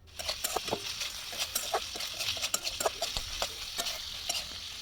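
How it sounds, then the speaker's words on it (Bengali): Shrimp frying gently in a pan, an even close sizzle broken by quick bursts of popping and spattering, moderately quiet and continuous with no voices. "আস্তে আস্তে ভালো করে ভেজে নেব। বেশি কড়া করে ভাজবার দরকার নেই, অল্প একটু ভাজলেই চলবে।"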